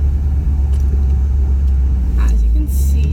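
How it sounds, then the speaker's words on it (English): Heavy traffic on an old road in Florida, a steady low engine rumble from passing cars heard from inside a vehicle, with people talking over it. "There's really bad traffic and we're on the old road"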